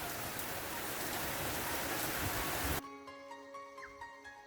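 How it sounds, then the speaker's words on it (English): Heavy rain pours steadily onto a flooded Burnett River, a dense, loud hiss for nearly three seconds before it drops away abruptly to a quieter background with faint tonal hum. "Not sure whether you can hear that rain coming down,"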